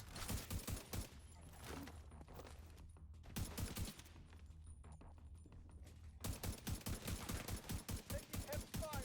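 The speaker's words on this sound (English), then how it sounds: "Taking heavy fire." Heavy automatic gunfire in The Division 2 video game, dense rapid bursts loud and continuous with a brief lull in the middle, then resuming at full intensity.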